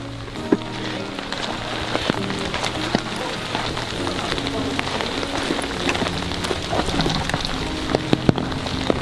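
Steady rain pattering on surfaces outdoors while someone walks, dense and close with occasional sharper drops and no voices.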